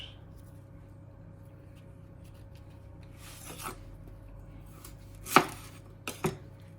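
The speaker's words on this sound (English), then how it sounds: "You reach the end, just slice the end of the root off again" A knife slices through chicory root on a cutting board: quiet room hum, then a few crisp cuts near the end, one sharp stroke followed by two quicker ones close together.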